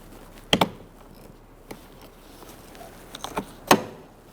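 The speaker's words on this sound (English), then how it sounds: "You can use a pick and then pry straight out." A pick pries the cover off the interior front door handle of a 2013-2019 Ford Escape, producing a few close, sharp plastic clicks and snaps separated by quiet pauses.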